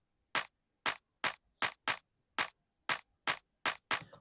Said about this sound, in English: And the clap is like this.